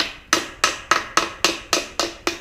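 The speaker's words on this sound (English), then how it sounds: "take the hammer and go around the ring compressor" Eight sharp metallic taps in a steady rhythm, a hammer striking around a piston ring compressor on a Kohler K341 engine block at close range, with no voices.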